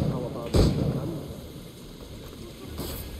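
Muffled gunshots from the pirate video game Assassin's Creed Black Flag boom twice, one early and one near the end, over a low rumbling game ambience.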